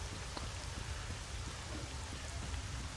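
Rain in the video game S.T.A.L.K.E.R.: Shadow of Chernobyl falls as a dense, steady downpour with scattered drop ticks on surfaces, loud and continuous with no voices.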